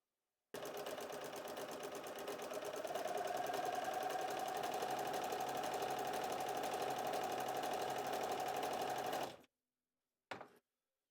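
Bernina sewing machine fitted with a ruffler foot, set to 6 or 12 pleats per stitch, running fabric through. It gives a steady, close mechanical whir and rapid stitching for about nine seconds, then stops abruptly before a brief final burst. No talking.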